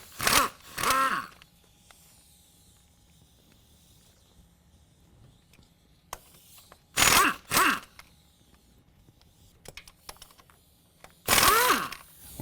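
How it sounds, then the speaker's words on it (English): A 15mm wrench works the CV axle retaining bolts free at the front differential of a 2017 Silverado 2500 HD, with three loud bursts of ratcheting separated by quiet gaps and faint clinks. "Now we're going to use a 15mm to remove all of the CV axle retaining bolts where it connects to the front differential."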